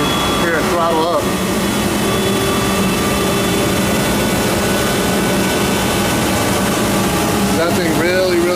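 Oneida Dust Gorilla Pro 5 HP dust collector in a shop, running loud and steady with a broad roar that rises as a port is shut; a voice talks briefly near the start and end.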